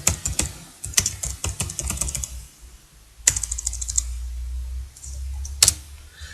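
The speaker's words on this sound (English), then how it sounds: "you simply type in a location" Typing on a computer keyboard: close, uneven bursts of key clicks with short pauses and a couple of sharper clacks, against a quiet low background hum.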